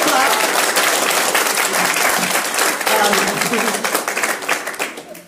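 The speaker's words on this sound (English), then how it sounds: "Give them a clap." A university lecture-hall crowd gives a loud, dense round of clapping for two political guests, sustained at full strength before tapering off toward the end, with faint voices mixed into the clapping.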